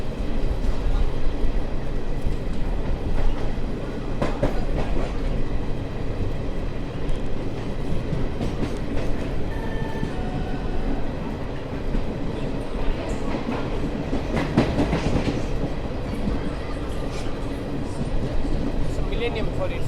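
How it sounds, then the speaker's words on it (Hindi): Swarna Jayanti Express passenger train at Hazrat Nizamuddin station, a steady loud rumble and rolling clatter of rail cars continuing throughout, with a voice talking over it. "सामने खड़ी है स्वर्ण जयंती एक्सप्रेस।"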